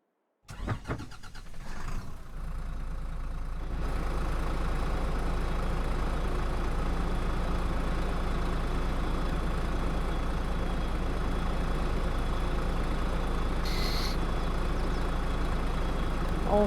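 An old Allis Chalmers tractor engine catches and settles into a steady, loud idle close by, with a low continuous rumble that holds unchanged to the end and no talking.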